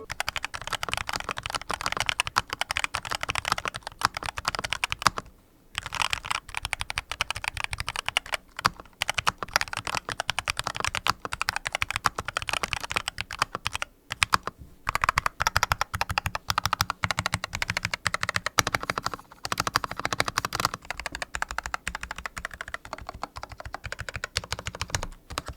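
Rapid, continuous typing on a heavily upgraded, roughly painted budget mechanical keyboard, close and crisp, with only a few brief pauses between bursts of keystrokes.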